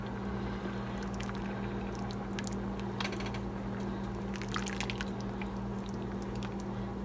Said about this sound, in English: So I added the butter, and I'm just going to stir it in.